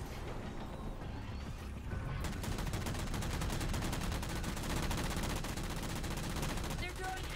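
Rapid, continuous gunfire from a Halo 4 video game shotgun battle, dense repeated blasts filling the whole stretch at close range with no talking.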